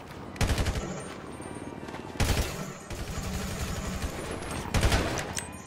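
Gunfire in the GTA video game, three loud bursts of rapid shots separated by continuous crackling shooting, close and heavy with no talking.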